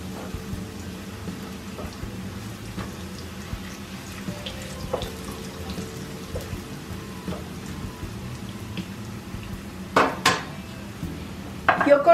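Tortillas fry in oil in a pan, crackling and sizzling softly in a steady patter, with a few louder clanks of utensils against the pan near the end.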